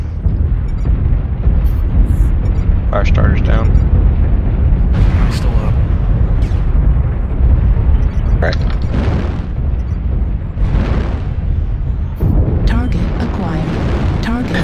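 A mech blown apart in MechWarrior Online: deep rumbling booms and explosive bursts over constant low engine and weapon noise, loud, with voices talking over the action.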